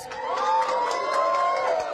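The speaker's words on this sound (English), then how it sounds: "That's the media cheering." A crowd of media people cheers at news of a rescue, a short burst of whoops and shouts held steady for about two seconds at moderate distance.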